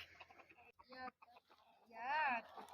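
A rooster with a permanently hoarse, raspy voice gives a rough, wavering crow near the end, loud and close, after a stretch of clucking and talk from a person nearby.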